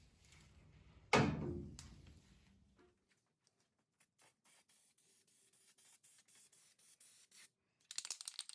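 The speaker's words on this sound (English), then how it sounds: "we'll spray the weld through primer on it like we did this other brace over here" A sharp hiss of a spray can of weld-through primer on an early Ford Bronco's metal front brace bursts out loudly, then a series of short, quieter spray puffs follow at an uneven rhythm.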